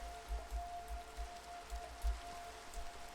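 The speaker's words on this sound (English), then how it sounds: "There's the rain again." Steady rain falling in the Minecraft video game world, a soft continuous hiss with low rumbling patter beneath a faint steady tone, no voices present.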